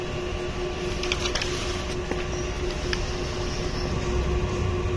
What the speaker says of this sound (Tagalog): Ito ang printer head.